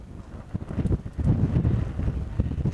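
Gusting wind on an open mountain hillside at Pen y Fan in Wales, buffeting the microphone in rough low bursts that swell and stay strong through the short moment.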